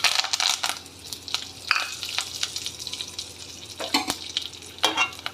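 Mustard seeds, fenugreek, cumin, dried red chilli, chana dal, curry leaves and asafoetida sizzle and crackle in hot oil in a pan for a Telugu kandi pachadi, with scattered pops, stirring scrapes and a few louder bursts, close and steady.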